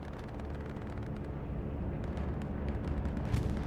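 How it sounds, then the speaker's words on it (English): A bombing run in Hell Let Loose, a heavy continuous roar of explosions and rumbling blasts building slightly louder toward the end, with no voices over it. "This looks like a SBS bombing run."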